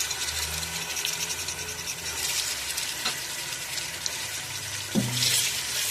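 Beef pieces drop into less than a cup of hot oil in a pot for a stew, giving a steady, loud hiss and sizzle with occasional splutters and a sharper spatter near the end.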